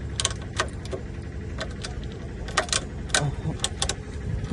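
Keys jangle with sharp metallic clinks in uneven bursts while the ignition key of a 2016 Belle TDX 650 vibratory roller is checked, over a low steady rumble close by.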